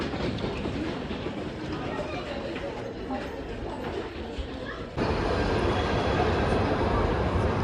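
Inside a moving passenger train, a steady loud rumble of wheels and carriage noise fills the space, growing louder partway through.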